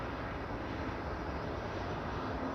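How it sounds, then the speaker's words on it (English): Jet airliner taxiing out for departure at Manchester Airport, a steady broad engine rumble and roar heard from a distance, unbroken through the whole short stretch. "Taxiing out for departure"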